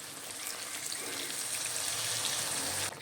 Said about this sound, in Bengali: এবার আমি গরম জল দেব।